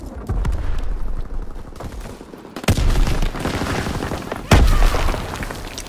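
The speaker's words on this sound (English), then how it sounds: "Keep firing!" Dense, loud gunfire in a WW2 video game battle, rapid overlapping shots and machine-gun bursts with booming impacts, continuous throughout with no speech.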